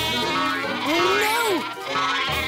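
A cartoon sheep lets out a single long, wavering bleat, loud and close, over a steady background hum.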